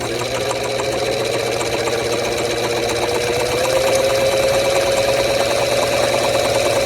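A Bernina Record 7 sewing machine, restored after repair, runs steadily and loud at close range, its motor hum rising slightly in pitch partway through, with a continuous rapid mechanical rattle of the needle mechanism and no talking.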